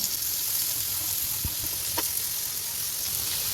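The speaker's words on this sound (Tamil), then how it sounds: "இப்போ இந்த உருளைக்கிழங்கு இதே மாதிரி டோஸ்ட் பண்ணி எடுத்துக்கலாம்" Potatoes fry in a pan with a steady, soft sizzle and hiss, a couple of brief taps or pops standing out, close and constant with no talk.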